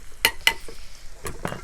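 Okra frying in a pan or wok, stirred with a few sharp scraping sizzle bursts spaced irregularly over a low background hiss, close and fairly loud.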